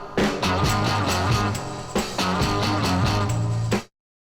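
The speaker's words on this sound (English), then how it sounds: "this track was subtly enhanced by adding just a touch of reverb" A 1960s Kinks rock track plays with a touch of added reverb, steady drums and strummed guitar chords in a driving rhythm before cutting off abruptly.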